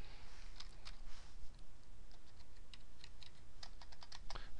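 Rapid typing on a computer keyboard, quiet close key clicks in uneven bursts with brief pauses, while entering data into a spreadsheet.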